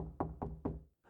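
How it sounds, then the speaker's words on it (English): Three firm knocks on a door, evenly spaced and close, followed by a brief quiet pause and the start of another faint sound. "so I knock on the door."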